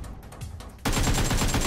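Gunfire in PUBG Mobile starts abruptly halfway through as a loud, dense, rapid stream of shots that continues to the end, after softer, scattered pops.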